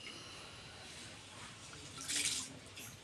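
Water poured over rice grains while washing them in a kitchen, a faint soft trickle and splash that swells briefly toward the end, with no talking.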